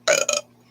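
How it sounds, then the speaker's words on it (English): A single loud, close burp in two quick rasping pulses, cut off sharply and followed by quiet. "or just about every video, I belch."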